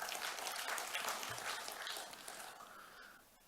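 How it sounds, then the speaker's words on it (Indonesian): An audience at a formal Balinese government ceremony applauds steadily for a few seconds, a dense far-off wash of clapping that slowly fades. "Tepuk tangan."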